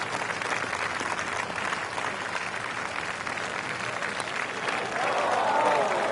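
A golf gallery applauds an eagle attempt, giving steady, sustained clapping from a spread-out outdoor crowd that swells slightly near the end, with a voice faintly audible at the close.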